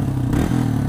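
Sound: Yamaha XT225 motorcycle exhaust idling

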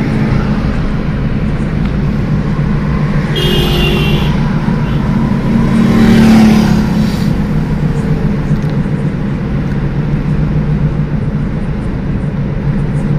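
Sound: car driving on a highway with the window open

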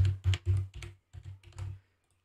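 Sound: typing on a computer keyboard

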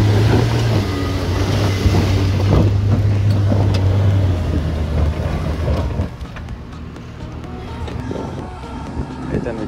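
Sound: Jeep engine driving up a rocky off-road climb

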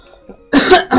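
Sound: cough

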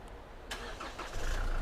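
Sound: Chevrolet Trailblazer engine remote-started from key fob

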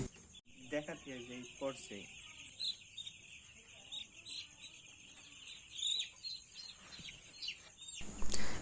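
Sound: broiler chicks chirping while being vaccinated

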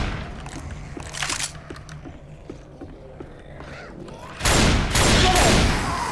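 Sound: gunfire in the video game Left 4 Dead 2

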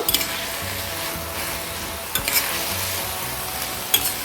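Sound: stirring pumpkin shoots and lentils frying in pan

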